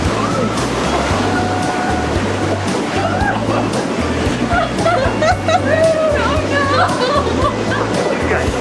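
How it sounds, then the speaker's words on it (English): Atlantic Ocean waves roar steadily and loudly on an Icelandic black sand beach, a continuous churning surf close by, with occasional faint voices and wind on top. "the roaring ocean you hear behind me"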